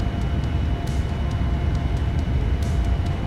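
Boeing 787-9 engines at takeoff thrust in a flight simulator, a steady, loud, dense rumbling roar with a thin high whine that holds evenly through the clip, no voices.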